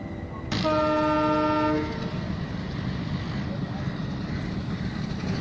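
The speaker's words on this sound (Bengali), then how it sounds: "যথারীতি ট্রেন একটা স্টেশনে থামলো।" A passenger train running and pulling into a station: a loud horn blast sounds briefly near the start, then steady rumbling of the wagons continues underneath, with faint voices in the background.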